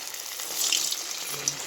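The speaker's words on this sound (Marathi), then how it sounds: "तर ह्याच तेलामध्ये आपण तळून घेऊया." Sabudana vada fry in hot oil, giving a soft, steady sizzle with light crackling pops close by, moderately quiet and unbroken through the short stretch.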